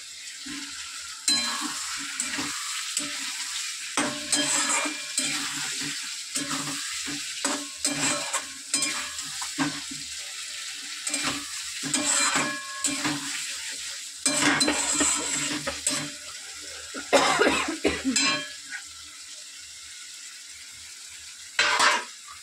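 Rithe fish pieces fry in spice masala in a pan with a sustained sizzling hiss, broken by frequent scraping stirs and clanks of a spatula on the metal pan over about twenty seconds, no talking.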